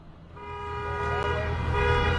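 Car and truck horns honk in sustained, overlapping tones over rumbling protest traffic near the Capitol, loud and continuous with a steady engine drone beneath.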